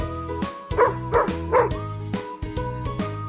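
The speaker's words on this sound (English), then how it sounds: "This is a dog." A dog barks repeatedly in quick, close bursts over a light musical backing.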